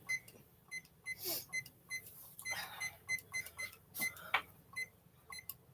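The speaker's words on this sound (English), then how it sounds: "Ooh, timer, phone." A phone timer alarm goes off in a home kitchen, a series of short, evenly spaced electronic beeps that repeat across the clip, with kitchen clatter in the background.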